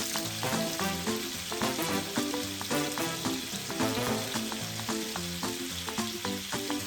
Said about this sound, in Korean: 지글지글 굽는 소리 너무 좋네요.